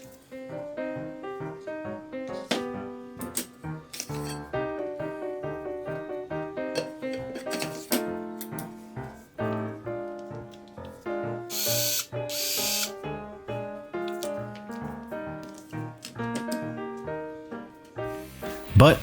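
A Ryobi power driver unwinds guitar strings, a whirring, ratcheting motor in short bursts. Plucked string tones ring alongside it throughout.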